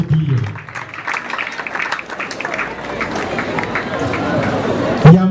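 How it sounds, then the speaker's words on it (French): An audience claps for the parents of sewing students at a school ceremony opening an industrial sewing workshop, the applause steady and dense with crowd murmur and a few voices over it. "Merci, ils sont là, on peut les applaudir."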